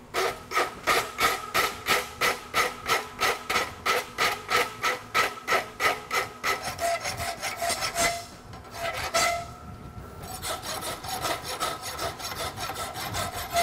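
A blacksmith rasps a steel horseshoe heel in steady, evenly spaced strokes, loud and close, then shifts to quicker, denser filing after a brief pause.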